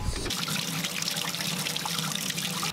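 Radishes, a whole bunch, rinsed under running water at a sink, a steady close trickle and splash that runs evenly for a few seconds with no talk over it.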